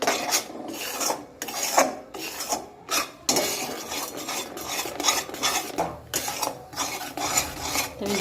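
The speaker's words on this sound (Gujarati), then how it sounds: "આ રીતના એને હલાયા જ કરવાનું છે, ન તો નીચે ગોળ આપણો બળી જશે।" A utensil stirs and scrapes jaggery roasting in a pan over low heat for chikki, with close, repeated rasping strokes and metal scrapes in an uneven rhythm and no talk.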